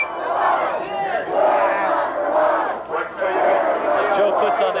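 A huge stadium crowd at a 1988 CIF football final, Canyon vs. Antelope Valley, roars, screams and chants in loud, continuous rising waves with a brief dip midway.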